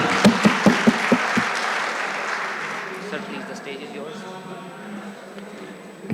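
Audience applause at a hijama symposium in a Lahore hotel, starting with a few sharp distinct claps that swell into a dense wash, then gradually thins and fades as a voice speaks underneath.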